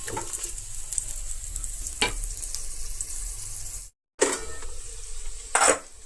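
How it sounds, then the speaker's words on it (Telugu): Onions frying in oil in a pan, ahead of ivy gourd (tindora) pieces going in, make a steady close sizzle with occasional stirring scrapes and a short pause in the middle. "ఉల్లిపాయలు ఇవి కొంచెం బాగా వేగిన తర్వాత మనం దొండకాయ ముక్కలు అవి వేసుకుందాం"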